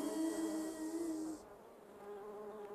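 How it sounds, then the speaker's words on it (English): A bee buzzes steadily outdoors along a nature trail, a sustained close drone lasting a few seconds and fading slightly toward the end, with no voices over it. "It's a bee."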